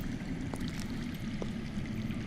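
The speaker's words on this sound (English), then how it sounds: "That's water. I hear water. From underground." Underground running water in the Game of Thrones Telltale video game, a steady faint trickling stream with a few soft drips, continuous and distant under low ambient rumble, with no talk.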